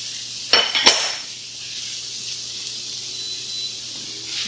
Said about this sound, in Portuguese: E vamos refogar um pouco aqui também o tomate até ele começar a se desmanchar